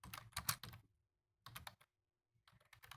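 Fingers typing a message on a computer keyboard indoors, quick clusters of close, crisp key clicks separated by short pauses.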